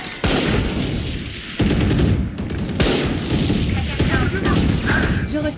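Automatic gunfire sprays in bursts during a Valorant match, dense rapid shots cutting off and resuming several times, loud and close, with brief voices mixed in.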